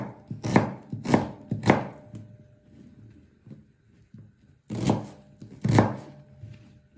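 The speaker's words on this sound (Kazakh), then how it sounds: "Пиязымды төртеуін ашып, жуып, тазалап қойдым. Енді осыны ірі етіп турайтын боламыз." Knife chopping through onions cut coarsely on a board for Uzbek plov, three sharp thuds, a pause with soft handling noise, then two more firm chops, close and alone.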